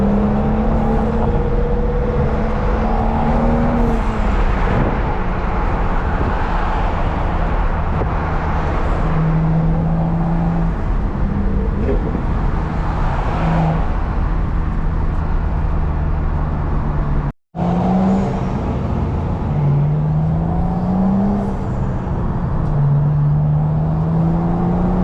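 Engine of a big-turbo BMW 440i on a Florida street, droning and whirring under load from inside the car, with rising and falling tonal pitch as it pulls through gears, a short break partway through, and no talking.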